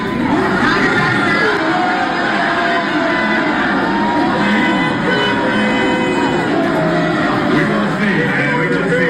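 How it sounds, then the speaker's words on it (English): A large crowd in a packed room erupts at the news of a Kevin Durant trade to Houston, with dense, loud cheering, shouts and whoops sustained throughout. "Here is the sound from inside of that room as they broke the news to that crowd."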